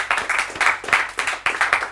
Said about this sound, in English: So round of applause to you guys.